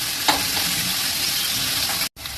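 Onions and green chillies fry in hot oil in a home kitchen, a loud, steady crackling sizzle with a few stirring scrapes and a brief dropout near the end.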